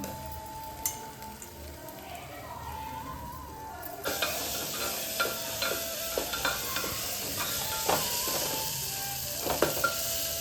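Green masala paste with tomatoes sautéed in a pan, a constant loud sizzle with a spoon repeatedly scraping and stirring, close up and with no voices.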